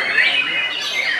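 A songbird sings at a bird-keepers' gathering, giving high, bright chirping notes in a brief continuous phrase, with voices faintly present.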